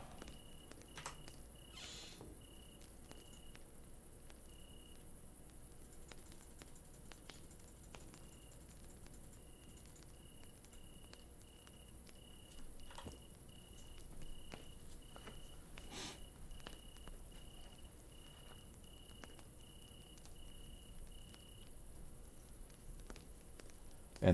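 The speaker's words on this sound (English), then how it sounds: "You can hear the crickets in the background." Crickets chirp in a steady, faint night ambience in the survival video game Wild Terra 2, with a continuous high trill and occasional soft clicks and taps over a quiet background and no talk.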